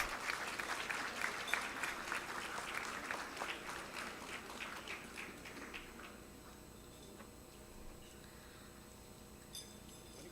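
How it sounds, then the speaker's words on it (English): An audience claps at a medical college convocation and annual day ceremony, with dense applause at first that thins and fades to scattered claps over about ten seconds. "A big applause for the Department of Pediatrics."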